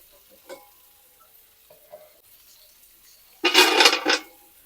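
Cashews and almonds drop into hot oil in a pan, starting a loud burst of frying and sizzling that runs for under a second after quiet stirring sounds.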